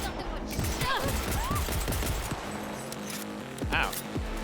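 Gunfire rattles through a firefight in the video game Cyberpunk 2077, with dense overlapping bursts and sharp shots over a busy game soundscape, with some talk mixed in.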